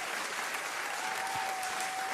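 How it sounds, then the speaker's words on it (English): Applause sound effect played during a collectible figure reveal, a continuous dense wash of clapping at an even level from start to finish, with no talk over it. "Man, these applause really suck, huh?"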